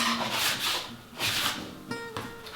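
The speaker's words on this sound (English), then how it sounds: "So what you need to do now is just move it using your dough scraper to build some tension across the top." A dough scraper rubs and slides sourdough bread dough across a kitchen counter in a few close, rasping strokes, with a brief faint tonal scrape near the end and no talking.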